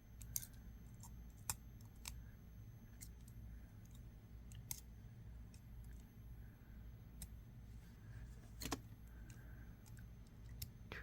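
Sharp little snips from wire cutters trimming excess jewelry wire on a handmade rings-in-rings earring, a handful of quiet isolated clicks spread over a low steady background hum.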